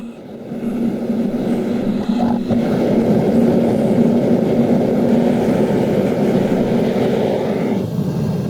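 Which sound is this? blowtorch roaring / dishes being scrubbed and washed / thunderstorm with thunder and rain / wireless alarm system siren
blowtorch roaring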